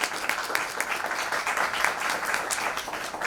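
Audience applause at a book launch event, a steady crowd clapping with no break for about three seconds, moderately loud and continuous.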